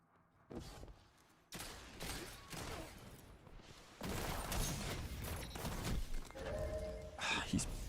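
Gunfire in Destiny's Trials mode comes as sharp, repeated shots and rapid bursts with impact thuds, some loud and close, some fainter, during a tense competitive match.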